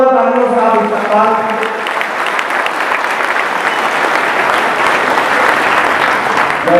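Loud applause from an audience at an event, rising out of a sustained voice or tone at the start into a thick, steady roar of clapping that holds to the end.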